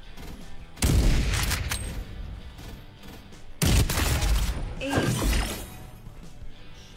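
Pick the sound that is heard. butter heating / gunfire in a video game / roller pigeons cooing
gunfire in a video game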